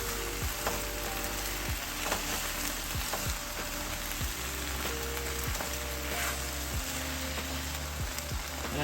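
Translucent onions sizzling and frying over high heat in a pan for shrimp, okra and sausage, a continuous crackling hiss with occasional clicks of tongs tossing the food.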